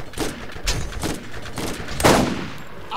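Gunfire in the video game Borderlands: several sharp, loud shots in an uneven rhythm over a few seconds, close and punchy, with no talk over them.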